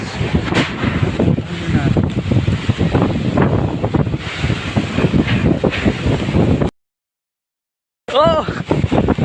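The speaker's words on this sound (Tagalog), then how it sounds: "napakalakas ng hangin oh" Strong wind during a storm with flooding buffets the microphone in loud, gusty roaring bursts, with a voice talking over it, then cuts out abruptly before resuming.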